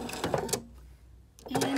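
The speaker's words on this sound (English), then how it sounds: "So I'm gonna do a little fixed stitch." A sewing machine makes a short fixed stitch on fabric for a fortune cookie gift, two brief close mechanical whirring bursts separated by a quiet pause.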